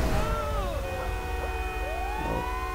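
A fire engine siren in the video game GTA 5 wails in rising and falling sweeps over a steady low engine rumble, loud and continuous throughout.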